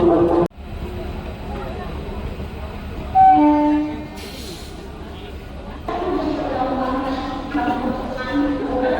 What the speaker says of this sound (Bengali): এই মুহূর্তে ট্রেন আমাদের ছেড়ে দিল কৃষ্ণনগর সিটি থেকে